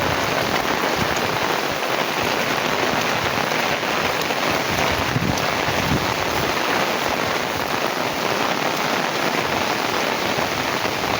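Heavy monsoon rain pours steadily and loudly over flooded farm fields, a dense, unbroken roar of water that holds constant with no voices.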